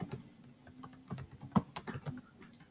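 Someone types at a computer keyboard, entering login credentials with quick, irregular clusters of soft key clicks, close and fairly quiet.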